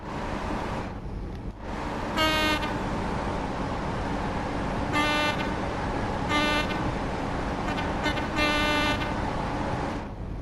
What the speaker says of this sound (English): It's like a car horn, honestly.